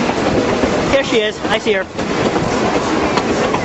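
Durango and Silverton narrow-gauge train rolling past with its open cars, a steady rumble and rail noise filling the scene while people speak nearby over it.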